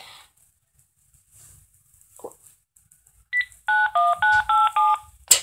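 A quick series of telephone keypad tones, about six short beeps in steady rhythm, loud and close, following a brief higher tone.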